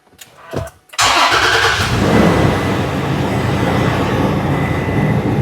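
A 2017 Toyota Tacoma pickup engine with a misfire fault cranks briefly via push-button start, then catches and settles into a loud, steady idle that runs continuously to the end.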